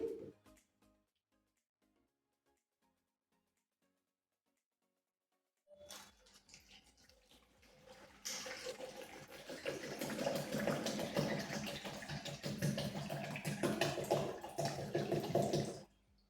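Water is poured into a container in preparation for hand casting: a faint knock, several seconds of near silence, a soft trickle, then a louder, steady pouring gush that stops abruptly at the end.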